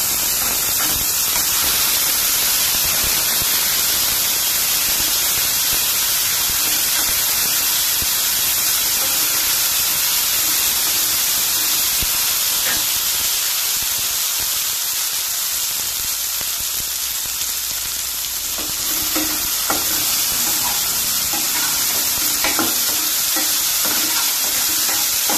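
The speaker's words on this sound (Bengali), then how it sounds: "এখানে দেবো আমি আদা বাটা, গ্যাসকে স্লো করে মশলাটা আমি ভেজে নেব" Ginger paste and garam masala fry in a pan on low gas for a vegetarian cauliflower roast, giving a steady, close hiss and sizzle that runs unbroken for the whole stretch, with no talking.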